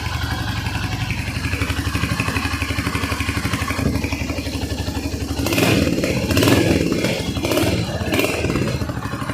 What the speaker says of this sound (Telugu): ఇంకోటి మీకు ఇంజన్ బీట్ కూడా వినిపిస్తాను.